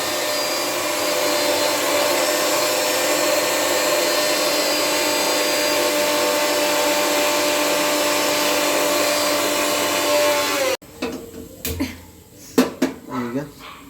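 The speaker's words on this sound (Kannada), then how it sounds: "ಇದನ್ನೆಲ್ಲ ಹಾಕಿ ರುಬ್ಕೊಳ್ತಾರೆ" A kitchen mixer grinder grinds masala for mushroom curry, a loud steady whir running about ten seconds before cutting off abruptly, followed by scattered clinks and knocks of the jar and utensils.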